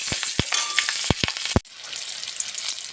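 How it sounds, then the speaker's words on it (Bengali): Cumin seeds and green chilies hit the hot oil left from frying katla fish, several sharp pops and crackles over a loud steady sizzle that softens after a moment, with no talking. "এই মাছ ভাজার তেলেই আমি সাদা জিরে আর কাঁচা লঙ্কা ফোড়নে দিয়ে দিলাম"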